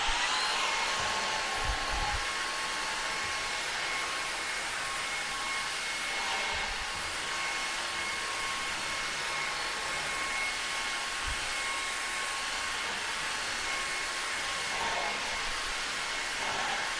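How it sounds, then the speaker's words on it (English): A Levoit LVAC-300 cordless vacuum runs in turbo mode with its mini brush roller, a loud constant high whine and airy rush held steady throughout, with faint low bumps from the head moving. "next up, we're going to be using the mini brush roller. Also on the turbo mode"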